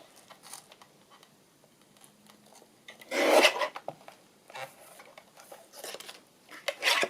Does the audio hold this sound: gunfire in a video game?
no